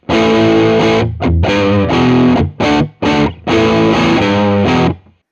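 Teruya Old Soul electric guitar on its voice 2 pickup setting, loud and distorted with a full, thick low end, played in sustained chords and short stabs separated by a few quick gaps, with no talking.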